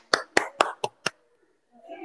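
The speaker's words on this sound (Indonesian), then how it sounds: "Tepuk tangan dong teman-teman." Five sharp, distinct claps ring out in quick succession at a homeschooling community meeting in Bali, fairly close and crisp, followed by a brief silence and then the start of soft talk.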